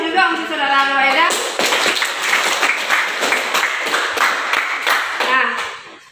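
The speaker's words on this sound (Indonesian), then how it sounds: "Berikan aplaus juga untuk saudara Waida." Applause from a school discussion audience, a dense burst of many hands clapping that holds steady for several seconds before tapering off, with a voice speaking over it at the start and again near the end.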